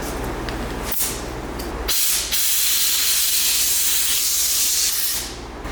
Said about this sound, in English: do you have a high pressure compressor to fill up the tire?